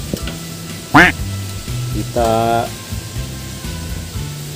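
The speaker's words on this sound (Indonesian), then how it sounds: "Ayam goreng tepung ini sudah digoreng" Flour-coated chicken sizzles in hot oil in a pan with a steady, close frying hiss, while a voice speaks over it in short bursts.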